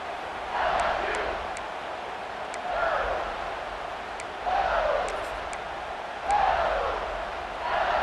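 A stadium crowd roars in EA Sports College Football 26 during a Georgia Bulldogs game, a dense sustained wall of cheering that swells in repeated waves, loud and steady throughout.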